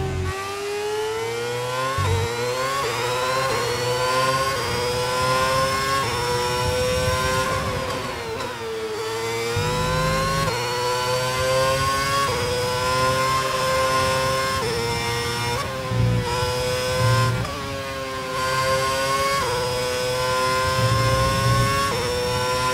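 A high-revving Ferrari Formula 1 engine, heard onboard in a racing video game, screams continuously, pitch climbing and dropping sharply through gear changes, loud and close with no voices.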